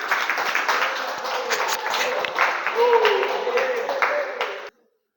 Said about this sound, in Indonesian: Tepuk tangan dong buat Adi